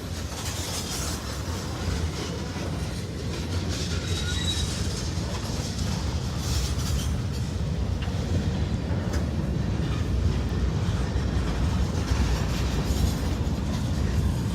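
Train passes near the track in Indiana or western Kentucky, a steady heavy rumble and rattle of rolling cars that builds slightly and stays loud throughout, with no one speaking.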